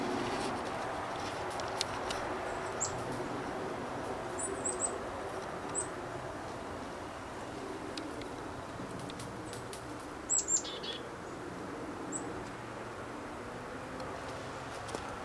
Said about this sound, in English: Oh, is that a woodpecker? Yeah, it is too.